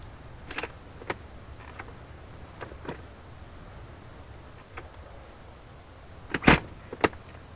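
A Cessna 172 door opens in the A2A flight simulator game: scattered faint clicks and handle rattles, then a loud close clunk of the latch and a final click near the end.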